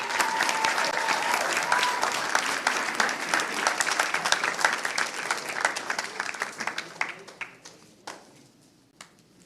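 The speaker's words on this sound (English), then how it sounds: "one more round of applause" A school board meeting audience gives a round of applause for a recognized teacher, dense clapping that holds steady and then thins out to scattered claps and fades near the end.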